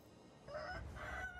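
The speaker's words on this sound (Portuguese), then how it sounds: "Galo, né? Você tá cantando." A video-game rooster crows once, a rising then wavering call lasting about a second, moderately loud against quiet background hiss with no talking.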